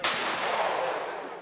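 A single loud gunshot fired at a watermelon target outdoors, with a sharp blast and a long fading rumble and no voices.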